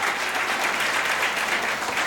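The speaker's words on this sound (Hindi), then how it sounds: "अगर गजल पसंद आई हो तो एक बार तालियां बजाएं।" Audience applause at a poetry recital by college students, steady dense clapping from a crowd held at an even level for the whole stretch.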